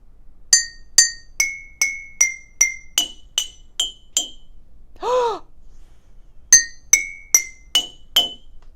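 Water-filled glass bottles are tapped in quick runs of bright ringing clinks at varied pitches, a brief breathy sound in a pause between the two runs.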